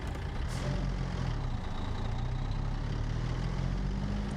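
Truck engine in American Truck Simulator holds a steady, deep low rumble at an even level throughout, with no speech over it.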